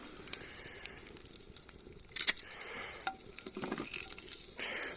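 Sausages sizzling in a pan at a campsite in the Uintas: a faint, soft frying crackle with scattered small pops and one brief louder clatter, heard from close by in otherwise quiet surroundings.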